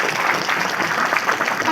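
Audience applause for people from Delhi at a large motivational gathering, a dense continuous wash of clapping that holds steady and loud from start to finish.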